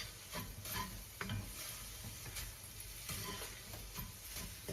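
Heated turmeric and cayenne are stirred into an onion, garlic and tomato mix, with soft spoon scrapes and light sizzling repeating in an uneven rhythm at a fairly quiet level, without speech.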